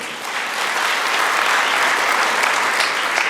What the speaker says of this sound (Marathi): तुमच्या सगळ्यांना जे डोनर आहेत त्यांच्यासाठी एकदा टाळ्या वाजवून